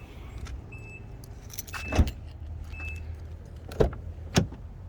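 A 2012 Infiniti FX35 SUV's power liftgate closes by itself, with a soft whirring motor and a few sharp clunks and latching thumps near the end, close by over a low idle background.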